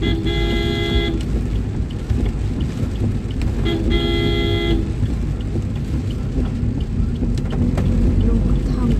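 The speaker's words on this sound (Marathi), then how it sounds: "हॉर्न वाजव." A car horn honks twice in short, steady blasts, close by, over constant road and wind noise while the driver moves slowly in a line of traffic.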